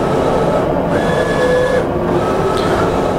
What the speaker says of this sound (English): So we've sent our designs to the printer.